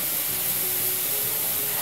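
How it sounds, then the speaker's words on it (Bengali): Grated carrots fry in ghee for Bengali gajar halwa, producing a steady, even sizzling hiss close by, with no voices. "এটাকে খুব ভালো মতো ঘিয়ের সাথে ভাজতে হবে।"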